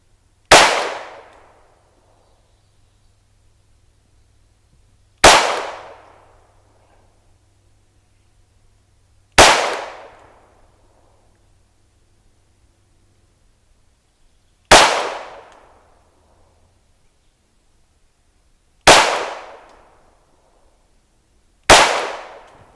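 Six loud pistol shots from a Ruger Mark IV or Browning Buck Mark aimed at a target 50 yards out, each a crisp crack with a short fade, fired slowly at uneven intervals of roughly four to five seconds.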